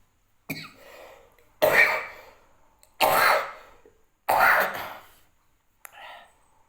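A person coughs hard four times in a row, close up, each harsh burst separated by a pause, then a smaller cough at the end.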